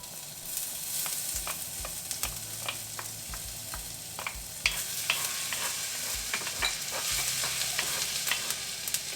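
Fresh ginger drops into a frying pan with green cardamom pods and sizzles steadily while a spoon scrapes and stirs in repeated strokes. The stirring is close and the sizzle is moderate.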